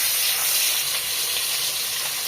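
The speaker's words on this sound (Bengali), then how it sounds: "আমরা মাথাগুলো আগে ভেজে নিচ্ছি" Large fish heads coated in chili powder, salt and turmeric frying in a big wok, producing a loud, constant hissing sizzle close up, with no talk over it.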